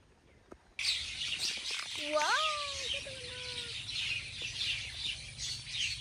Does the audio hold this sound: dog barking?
no